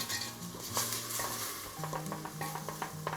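Soup base for Polish cabbage roll soup browning slowly in a pot while a utensil stirs and breaks it up, with a steady close sizzle and repeated scraping clinks against the pot, no talking.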